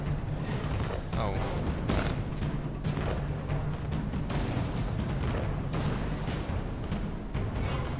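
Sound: crab's cannon arm firing in the video game Alice Madness Returns

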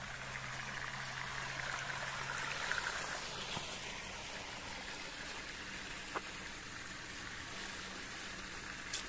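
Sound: irrigation water flowing on a farm

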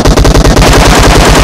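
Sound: gunfire in PUBG Mobile video game

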